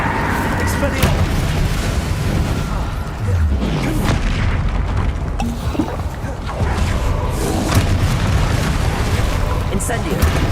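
Bombarda spell blasts go off in Hogwarts Legacy combat, loud booming explosions repeating through a chaotic fight with whooshes and bursts, and a voice speaks over the noise.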